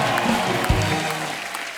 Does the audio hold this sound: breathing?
no